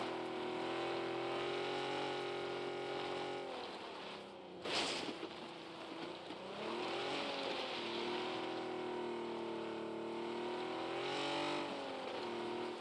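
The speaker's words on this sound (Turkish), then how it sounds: "Araba geliyor." A car approaches in the PUBG video game, a steady engine drone with wavering pitch that rises and falls, interrupted briefly by a short burst of noise, moderately faint.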